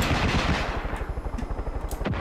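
Rapid bursts of aircraft cannon fire in the shooter game Far Cry 5, a loud, steady stream of close, evenly spaced shots lasting about two seconds with no voices over them.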